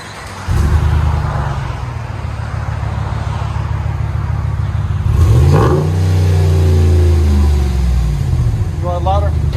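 A RAM 1500 5.7L HEMI V8 with Flowmaster Super 10 exhaust, heard from inside the cab, holding a steady droning rumble before one strong rev rises and falls away, with a short voice at the end.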